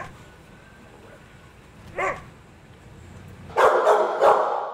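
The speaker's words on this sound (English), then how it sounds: "This blue pit bull color type that's very popular. And he is a pretty aggressive dog." An aggressive blue pit bull barks: one short yelp, then a loud, close cluster of rapid, harsh barks over a quiet background.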